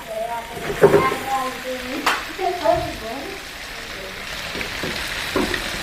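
Fish frying on a hot tawa griddle at a busy fish restaurant, a continuous close sizzle beneath people talking loudly, with a few sharp clatters.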